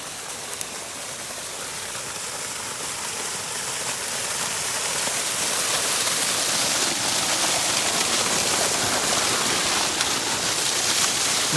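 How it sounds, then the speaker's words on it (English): Water gushes steadily from a broken farm water line beside a tractor, a continuous broadband rush that swells louder after the first few seconds and holds strong, with no talking. "Got enough water coming through."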